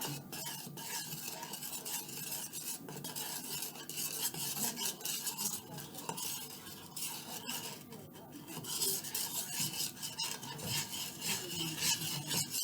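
Warm homemade slime mixture is stirred in a bowl, giving faint, continuous wet scraping and squelching with rhythmic swishes of the utensil, quiet and close.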